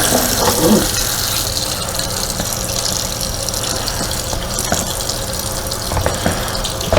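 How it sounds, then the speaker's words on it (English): Cold water runs steadily from a kitchen tap as brined red salmon is rinsed of salt and brown sugar in a sink, a close, continuous gushing splash with no talking. "we'll run a little cold water and rinse that off in here"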